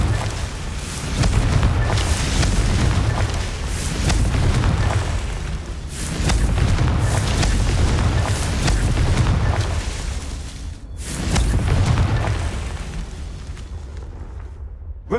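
Repeated Confringo explosion spells in Hogwarts Legacy, with heavy booming blasts roughly every few seconds, each a deep rumbling burst that swells and decays before the next.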